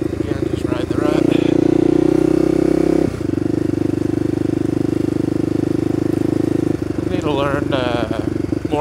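A Honda motorcycle engine drones steadily while riding through ruts, loud and close with a brief dip in pitch partway, and a voice talks over the start and end.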